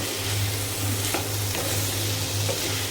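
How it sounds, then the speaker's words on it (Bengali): A vegetable bhaji of beans and potatoes frying in a pan, giving a steady, close, loud sizzle that stays even throughout, with no voices. "এখানে যে ভাজিটা হচ্ছে"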